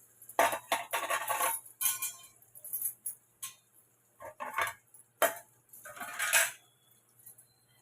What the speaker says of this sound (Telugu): ఇప్పుడు దీంట్లో బీరకాయ ముక్కలు వేసుకుందాం.